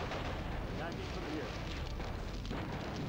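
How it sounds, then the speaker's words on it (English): An explosion in the video game MechCommander: Desperate Measures, a dense rumbling blast that fills the whole moment with a loud, continuous roar. "It also exploded."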